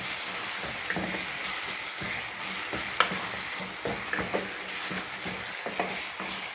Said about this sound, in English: you can mix the pumpkin leaves with the Malabar spinach